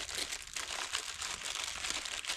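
Plastic bag crinkling close by while ingredients are handled at a bushcraft camp, a soft continuous rustle with irregular crackly bursts, quiet and without talk.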